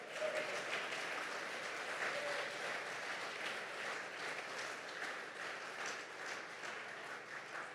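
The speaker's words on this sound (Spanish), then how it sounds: "Dele aplauso fuerte al Señor" Church congregation clapping together in a steady, moderately distant wash of applause that holds evenly for several seconds without any speech over it.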